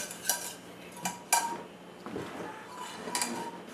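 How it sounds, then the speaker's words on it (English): A whisk works through hot wing sauce in a kitchen bowl, giving a few quiet metallic clinks and scrapes spaced irregularly against a hushed background. "Give it a good whisk one more time"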